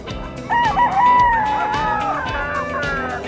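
Young rooster, a stag, crowing at a pet market: a wavering, hoarse crow of a few seconds, close and loud, with market bustle behind.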